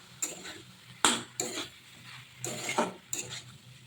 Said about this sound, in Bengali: এবার তরকারিটা ভালো করে কষিয়ে নেব